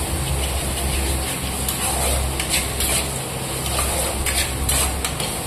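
Spice paste fries in oil in a pan with a steady sizzling hiss, while a utensil scrapes and clinks against the metal now and then as it is stirred.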